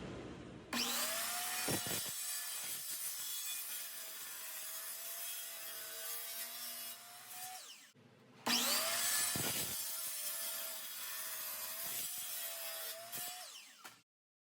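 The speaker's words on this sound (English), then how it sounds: "I'm gonna cut this into 3 pieces of different height" Red oak board being cut into pieces with what sounds like a power saw, two long loud sustained cuts each lasting several seconds with a steady whine, separated by a short pause, clamped on a table.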